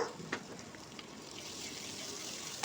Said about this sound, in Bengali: এই আদা রসুন আর পেঁয়াজটা তেলের মধ্যে ভেজে নেব